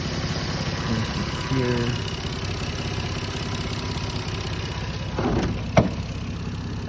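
An engine idles steadily with a mid-low mechanical drone and a brief sharp knock or clunk near the end, while a voice speaks briefly over it.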